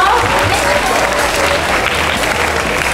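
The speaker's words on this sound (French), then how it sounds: "Applaudissez très fort, s'il vous plaît." An audience applauds loudly at a morning devotional gathering, dense continuous clapping from many hands throughout, close and full.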